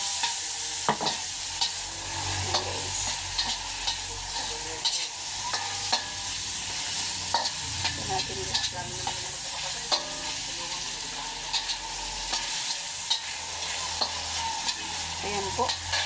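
Onion, tomato and chili sautéing in a pan give a steady close sizzle, broken throughout by scraping stirs of a spatula against the pan.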